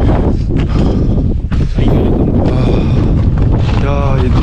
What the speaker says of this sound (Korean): 또 바람 많이 붑니다.